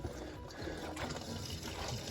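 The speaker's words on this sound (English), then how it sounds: "you hear the air pushing through the water" Air pushing through the water lines while an RV plumbing system is bled during winterizing, a faint, steady gurgle and trickle of water and sputtering air bubbles running through pipes, fairly quiet and continuous without talk.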